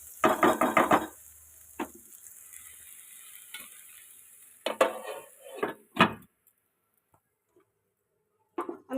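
Ghee-coated sabudana pulao stirred in a pot: a dense burst of scraping and clinking up front, a lone knock, then a longer run of stirring before the pot falls nearly silent, with a couple of faint taps at the end.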